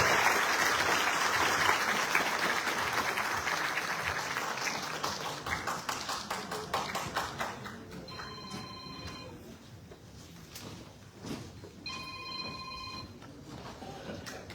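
Audience at a CHP district party meeting in Keşan applauding, dense clapping that thins into rhythmic claps, with a phone ringing twice near the end.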